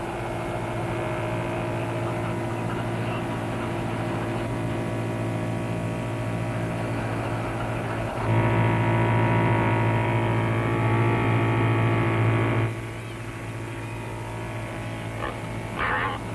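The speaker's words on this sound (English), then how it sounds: "our boat is approaching across the great bowl of Village Bay" A small boat's engine drones steadily as it crosses the wide bowl of Village Bay at St Kilda, a continuous low hum that swells louder midway and then eases back, with no voices.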